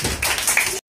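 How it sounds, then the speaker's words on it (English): A group of kindergarten children clap together for a classmate in a classroom, a quick burst of brisk, close clapping that stops abruptly. "Very good. Clap for Vandana."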